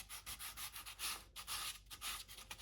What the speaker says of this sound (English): Just going to finish up here with some light sanding of the plastic wood around the neck